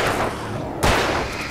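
A gunshot in the video game Alan Wake, one sharp loud crack in the middle over a constant dense game background, no voices.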